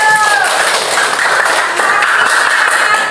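Students in a classroom clap together in loud, steady applause that stays close and continuous throughout, with faint voices underneath.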